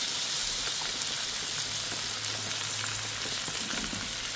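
Beef caldereta sizzles steadily in a pan as tomato sauce goes in, a dense, even frying hiss that holds close and loud throughout with no voices.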